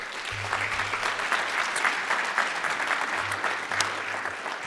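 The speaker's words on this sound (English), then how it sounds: "Give them a round of applause if you would." A room full of people at a school board meeting applauds steadily, a dense wash of clapping that carries on for several seconds without talk.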